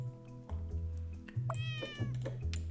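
Cat meowing sound effect: a few drawn-out meows, one rising and falling in a clear wavering tone, over a steady low music-like drone, fairly close and loud.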